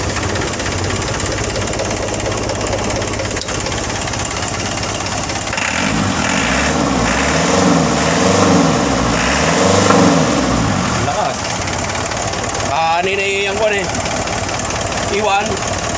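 A car engine idles in neutral after a clutch repair, a steady mid-pitched rumble throughout, briefly swelling with a slight rev near the middle, while someone talks over it.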